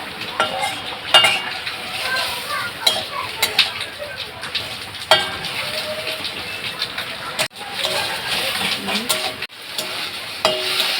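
Shrimp fry in a pan, a bright steady sizzle broken by repeated scrapes and clanks of a spoon stirring against the metal.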